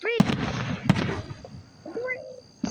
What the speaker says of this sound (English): The big old firework is everywhere.